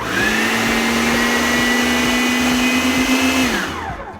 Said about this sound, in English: Put the lid on there and puree that till nice and smooth.